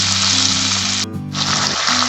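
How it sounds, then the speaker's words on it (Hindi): A covered pan of tomatoes, onions and cashews cooking over the flame, a loud steady sizzle that drops away briefly for a moment, then returns at full strength, close, with no speech. "और इन सभी को ढककर अब हम थोड़ा सा पका लेते हैं।"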